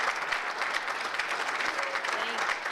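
A gala crowd at a chamber of commerce annual awards dinner applauds an outgoing board chair with dense, sustained clapping throughout, steady and fairly loud with a roomy blur.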